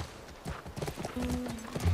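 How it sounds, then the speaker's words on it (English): Horse hooves clip-clopping in The Last of Us video game, a quick uneven run of hoofbeats near a ranch, with a faint snort and game sound underneath. "That's our horse."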